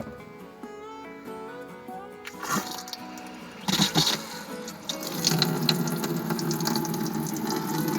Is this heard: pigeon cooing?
no